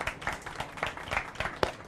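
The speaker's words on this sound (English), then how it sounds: "So give yourselves another round of applause." Audience at a brand-building networking event breaks into a short round of applause, with individual claps standing out in a quick, uneven rhythm close to the microphone.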